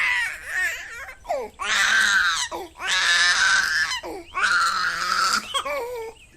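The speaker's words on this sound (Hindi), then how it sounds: "भूख से फिर रोने लगती है" An animated baby girl cries from hunger in a Hindi moral story, loud wailing sobs arriving in three long bursts separated by short gasping pauses, close and alone.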